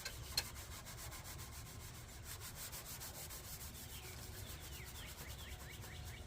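Steel wool scrubs surface rust off stainless steel in a steady, continuous rasping rub, close and fairly quiet, with no voices.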